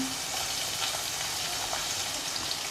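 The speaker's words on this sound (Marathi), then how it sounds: "मी हे तेल तापवून घेतलं आहे आता आपल्याला ह्यामध्ये कांदा हिरवी मिरची आणि कढीपत्ता प्रथम घालून घ्यायचा आहे" Onion, green chillies and curry leaves sizzle in hot oil as a Marathi ridge gourd dry vegetable begins, a dense, even crackle throughout with no talking.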